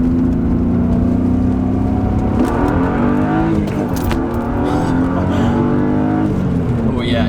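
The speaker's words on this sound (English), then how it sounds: "I'm gonna hit the throttle from there and then bang a shift" A car fitted with polyurethane subframe and differential bushings accelerates hard at about 4,000 RPM, its loud engine drone rising steadily before a gear shift breaks the pitch partway through, with talk over it.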